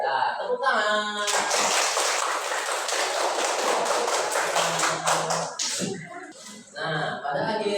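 A classroom of students claps their hands together in an Indonesian school lesson, just before singing Asmaul Husna. The dense, steady applause runs for several seconds, with a voice talking briefly before and after it.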